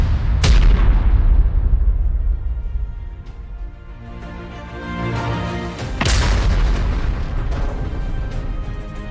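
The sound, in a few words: Grad rocket salvos, artillery fire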